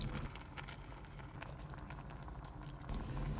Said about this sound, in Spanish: Le apago la estufa para que no siga hirviendo y ya está cocinado el arroz.